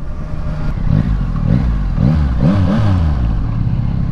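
Steady engine rumble with rising and falling revs from a 2025 Yamaha XSR 900 motorcycle at a tollgate among other motorcycles, close by and loud throughout, idling and throttling up.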